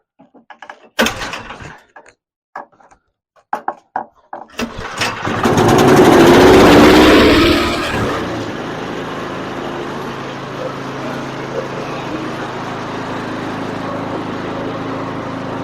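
Troy-Bilt snowblower engine with a gummed-up carburetor, pulled over with a few clanks, then catching and revving up loudly before settling into a steady, lower-throttle run.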